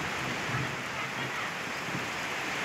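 Heavy rain pours outside during a sudden cloudburst, a dense, continuous hiss of falling water with a faint low rumble underneath, steady and fairly loud throughout.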